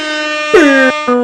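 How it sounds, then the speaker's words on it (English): A loud, blaring air horn blast with a pitch drop at the start, followed by a brief gap and a second short blast. "Air horn."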